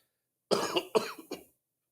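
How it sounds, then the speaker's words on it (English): A short burst of three harsh, throaty coughs from a nearby person, loud and close, followed by silence. "I'm going to be coughing from time to time."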